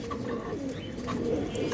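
A Kashmiri racer pigeon sitting on its eggs gives a soft, low cooing close by, a short murmuring phrase with no other sounds.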